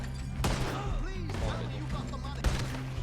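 Gunfire in the Western video game Red Dead Redemption 2, a few sharp loud shots, one near the start and another late, set against game music and a voice talking over it.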